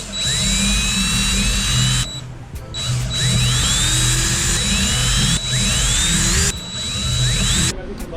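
Power drill whirring loudly in repeated bursts while boring holes for Harley motorcycle speaker pods, the motor pitch rising and dipping with short pauses between runs, close and steady.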